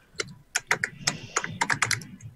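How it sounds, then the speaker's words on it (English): Typing on a computer keyboard: quick, irregular bursts of sharp clicks and key taps, close and clear, with short pauses between runs and no talking. "I hope that noise is a keyboard and not what I'm imagining."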